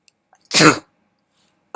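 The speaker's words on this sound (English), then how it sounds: "No doubt it's a mixture of a cough and a sneeze together" A single explosive burst, part cough and part sneeze, loud and close, surrounded by near silence.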